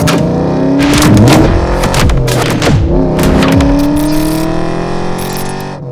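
A supercharged 4.6-litre 2003 Ford SVT Cobra 10th Anniversary convertible with 23,000 miles revs and accelerates close by, its engine pitch climbing and falling through gear changes in a loud, steady drone.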